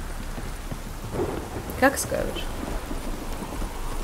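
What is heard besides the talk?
heavy rain and thunder in The Witcher 3 video game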